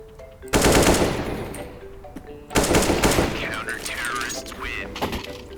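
AK-47 gunfire in a video game, two loud sustained bursts of rapid automatic fire with a gap between them, and voices talking during the second burst.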